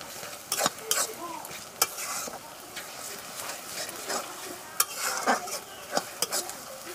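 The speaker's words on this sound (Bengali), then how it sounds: "পেঁয়াজটা হালকা লাল হয়ে গেছে, এবার আমি দিয়ে দেবো রসুনের বাটা।" Garlic paste going into onions frying in a pan, with steady sizzling broken by repeated scraping and stirring knocks, close and fairly loud throughout.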